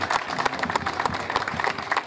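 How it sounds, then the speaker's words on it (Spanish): An audience at a school inauguration ceremony applauds, with dense, steady clapping from many hands that carries on throughout. "Muy bien, fuertes aplausos al profesor Bonifacio Pincay."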